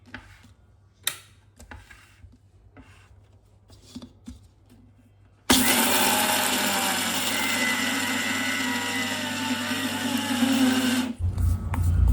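After some quiet clicks and handling noises, a mixer grinder blending peanuts into peanut butter starts abruptly and roars steadily for several seconds before stopping.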